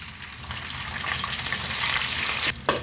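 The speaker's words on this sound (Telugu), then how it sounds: "కరివేపాకు ఫ్రై అయింది." Curry leaves fry in hot oil with garlic for pulihora, tamarind rice, giving a steady close sizzle with a brief stirring scrape near the end.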